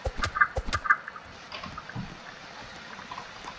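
Short clucking bursts from chickens in a video game, several quick calls close together at the start, then a quieter steady ambience.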